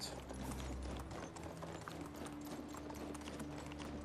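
Horse hooves clip-clopping in the medieval video game Medieval Dynasty, a quiet steady rhythmic trot of light clops over a low background hum, with no talking.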